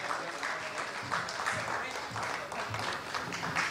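Audience applauding for the Chattogram College Debating Society at a 2019 youth debate competition in Chattogram, steady dense clapping from a crowd throughout, with some voices mixed in.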